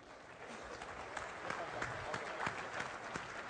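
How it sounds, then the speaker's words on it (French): Audience applause at a morning ceremony marking the end of coal mining at Merlebach, a steady wash of clapping with some crowd murmur underneath, moderately loud and continuous throughout. "Roger, qu'on applaudit très fort, mesdames et messieurs."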